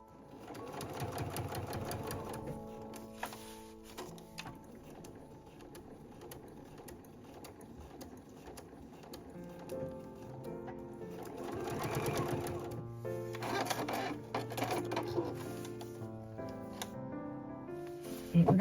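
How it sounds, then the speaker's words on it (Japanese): A home sewing machine stitches through a nylon tote bag, with rapid mechanical chattering in bursts and short pauses between runs, close and clear. "表面からミシンを ミシンのステッチを入れていきます"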